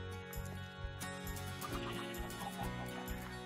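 Chickens in the video game Minecraft clucking in short repeated calls, set against a dense, steady backdrop of game sound.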